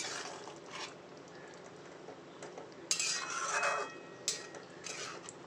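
A spoon stirs dhoka curry, a Bengali lentil-cake dish finished with ghee and garam masala, in a pan: quiet scraping and clinking, with a few louder metallic scrapes and clatters near the middle and end.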